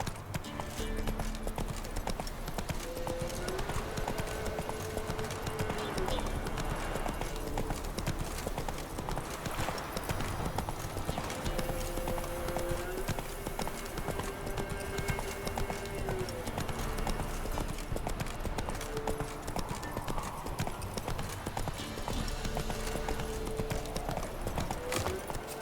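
Horse hooves clip-clop in a steady, brisk rhythm while riding in the video game The Witcher 3, close and continuous over a soft background of game music.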